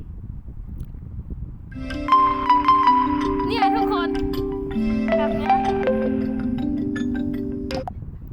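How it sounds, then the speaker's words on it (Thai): An alarm clock ringtone set to a favourite song plays a steady tonal melody for several seconds, with a voice speaking briefly over it. "ให้ตัวนาฬิกาปลุกริงโทนเนี่ย เนี่ยเป็นเพลงที่เราชอบ"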